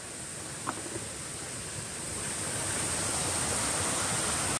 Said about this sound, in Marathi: ज्यासाठी आम्ही आलेलो तो फायनली धबधबा भेटलेला आहे आम्हाला.